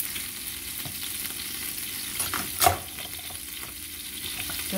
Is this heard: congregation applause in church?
no